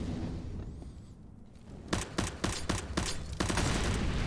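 Gunfire in a CS:GO match on the Vertigo map, with a grenade going off, heard as a burst of sharp rapid shots, a short pause, then another sustained volley, loud and close.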